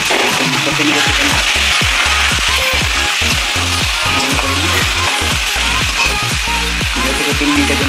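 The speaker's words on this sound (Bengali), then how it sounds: "চিকেনটা আমরা হালকা করে ফ্রাই করে নেব" Chicken pieces fry in a pan with a loud, steady sizzle and crackle, while a utensil clicks and scrapes repeatedly as it stirs. Nobody speaks.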